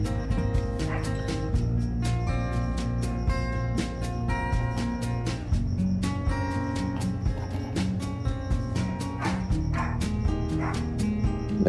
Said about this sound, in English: that's my dog barking in the background, if you can hear that